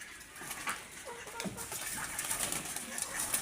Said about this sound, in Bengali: দেখেন কবুতরগুলো কতটা শিকারি, সবগুলো কিন্তু চলে আসতেছে গামলার ভিতরে।